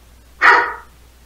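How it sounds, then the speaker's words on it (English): A single short, loud bark from a pet dog, close by and alone against a quiet room. "My dog is shocked by this revelation"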